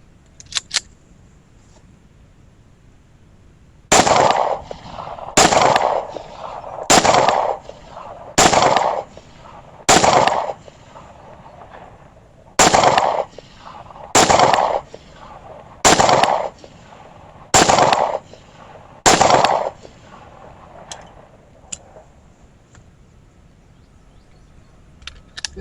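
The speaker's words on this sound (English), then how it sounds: "So let's run through 2 mags and see how the PX4 Compact 2 runs." A Beretta PX4 Storm Compact 2 pistol fires about a dozen sharp, loud shots at an outdoor range, spaced roughly a second or two apart in a steady string, with a brief pause partway through.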